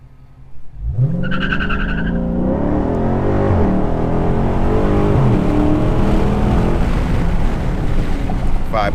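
A 2017 Dodge Daytona 392 launches hard from a standstill, its V8 roaring loud and steady as the tires spin and squeal, the engine note climbing continuously for several seconds.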